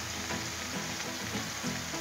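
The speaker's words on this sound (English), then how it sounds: "I'm gonna toast the buns, because who don't like a good set of toasted buns?" Burger buns toast on a hot Blackstone griddle, with a soft, steady crackling sizzle and faint scraping, and no one talking.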